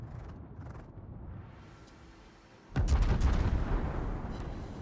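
Torpedo hits explode in the naval combat game World of Warships, a sudden loud broadband blast with deep rumble that bursts in after a quieter stretch of low engine and sea ambience and stays heavy to the end.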